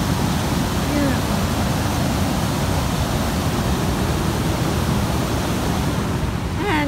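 Loud, steady roar of rushing water at a waterfall and natural water slide in Temagami, a constant broadband torrent close by with no break, and a faint voice briefly audible at the end.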